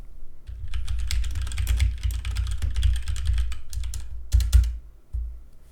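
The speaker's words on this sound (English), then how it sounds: "Here's what it sounds like when typing on a keyboard." Keystrokes on a computer keyboard, captured close up with a HyperX Solocast microphone: a dense, steady patter of clicks and clacks with a few heavier bursts near the end, alone with no talk.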